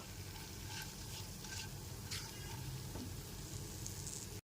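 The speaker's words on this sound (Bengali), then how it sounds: "সামান্য একটু হিং দিয়ে দিচ্ছি গ্যাসের ফ্লেমটা লোতে রেখে ফোড়নটাকে হালকা করে ভেজে নেব" Asafoetida tempering for a vegetarian chhanar dalna frying gently over a low gas flame, a soft steady sizzle with faint scattered crackles and a few light utensil touches, fairly quiet and continuous throughout.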